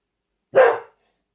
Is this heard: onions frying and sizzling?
no